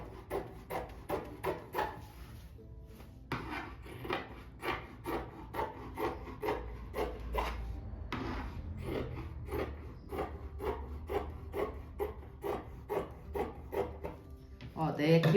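Scissors cutting fabric for a rug with a slipper design, giving repeated rhythmic rasping snips close by, with a short pause partway through, over a quiet background.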